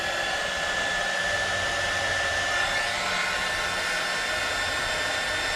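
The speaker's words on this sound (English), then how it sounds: "I want to try my cool little heat gun that I just got" A small new heat gun runs steadily and close by, giving a continuous airy blowing whir with a faint high whine throughout, no voices.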